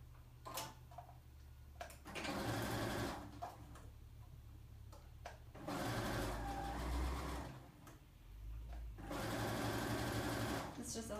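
A sewing machine stitches the hem of a swing dress in three bursts of steady mechanical whirring, each lasting a few seconds, with quiet pauses between them.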